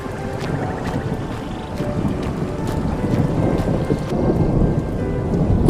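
Heavy rain pours steadily while deep thunder rumbles and rolls beneath it. The storm is loud and continuous, swelling slightly over a few seconds, with some wind buffeting and no voices.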